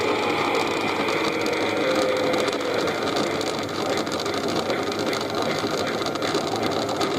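A Miele Novotronic toy washing machine by Theo Klein runs its pump to drain water, giving a steady, close mechanical whirring buzz with a constant vibrating hum and no talking.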